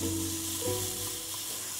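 Scallions and squid fry in a hot pan for Korean kimchi squid skewers, giving a steady, close, crackling sizzle with a faint low hum underneath and no talking.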